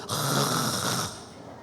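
A voice imitates a spouse's snoring, one long, rough, rattling snore drawn out for about a second, close and fairly loud, then trailing off into quiet.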